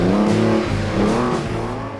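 A Porsche sports car on a skid pad, its engine droning loud and close with rising and falling revs and shifting harmonics throughout, no voices.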